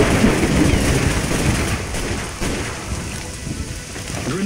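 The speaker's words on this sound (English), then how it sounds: "Raining effects." Rain falls in the Orion Prelude shooter game as a dense, loud, continuous hiss with a rumbling low end, easing a little toward the end, with no talk over it.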